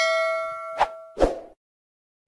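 Two bright metallic dings in quick succession, the second slightly lower and longer, ringing out briefly before silence.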